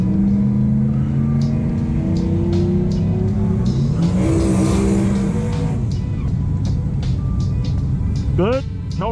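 Car doing a burnout at a street and drag racing event, a loud sustained engine drone and tire roar, with voices talking over it and a brief high squeal near the end.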